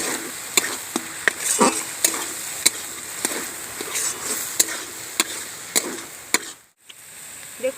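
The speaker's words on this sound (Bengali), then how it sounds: "ধনের গুঁড়ো দিয়ে দিচ্ছি এক চামচ দিয়ে ভালো করে নেড়ে চলুন" A spoon stirring a fish filling with coriander powder in a pan, giving sharp repeated taps and scrapes against the metal over a steady frying sizzle, with a short pause near the end.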